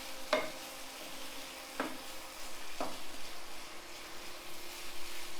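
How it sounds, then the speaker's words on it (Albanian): Meat is stirred while frying in a pan, with a few sharp scraping strokes over a soft, steady sizzle that keeps bubbling in the background. "E përzim kështu vazhdimisht në të njëjtën temperaturë"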